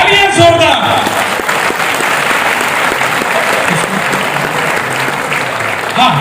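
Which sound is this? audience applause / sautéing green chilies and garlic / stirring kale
audience applause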